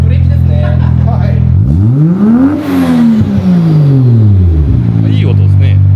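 The engine of a Toyota Cresta (81-series) is revved up from idle, swelling to a loud peak and settling back, with a second rev following, close and prominent under brief talk.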